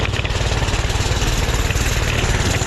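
A Doodle Bug mini bike engine revs hard and steadily at close range with its throttle stuck open, a loud buzzing drone that holds without letting up.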